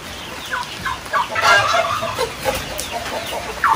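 Chickens in a backyard flock cluck in short, uneven bursts, several close birds calling over one another with no voice present.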